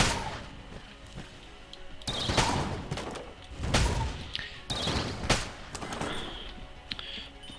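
Shotgun blasts in The Gungeon, several sharp loud shots in irregular bursts with bright cracking attacks and brief decays, alone against quiet game background.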